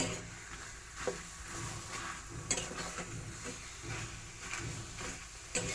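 A pan of hilsa fish heads and taro greens is stirred over a low sizzle, the spoon scraping at a steady rhythm with a few sharper clinks, fairly quiet and with no talking.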